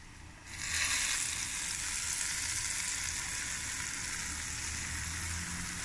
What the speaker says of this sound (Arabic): نحط بقى طشة الثوم زي ما احنا شايفين اهي